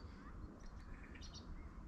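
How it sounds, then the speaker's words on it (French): A blackbird calls in a hunting area in November, giving a few faint, distant chirps over a quiet, low outdoor rumble. "Il y a un merle qui gueule."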